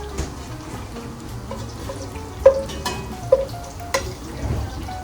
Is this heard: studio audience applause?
no